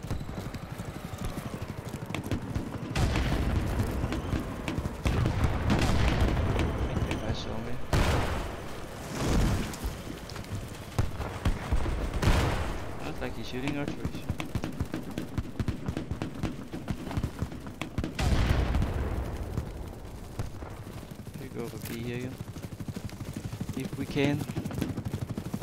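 Gunfire from the video game BattleBit Remastered, repeated bursts and single shots crackling through a busy battlefield mix, with someone talking briefly over it.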